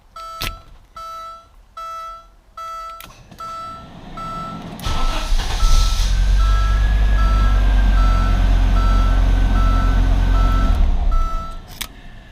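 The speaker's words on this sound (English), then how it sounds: "The ignition switch is actually turning the car on." An Audi 5000 CS Quattro sounds a string of regular warning chimes, then its engine cranks and catches with a low, steady idle rumble that runs for several seconds before cutting off as the chimes return.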